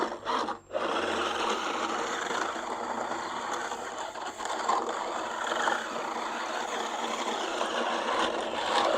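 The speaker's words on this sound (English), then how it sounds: "we'll go ahead and throw a battery in it and spin it up" A combat robot's battery-powered weapon spins up into a continuous, loud mechanical whirring with a buzzy, rasping edge, briefly dipping near the start and then holding steady throughout.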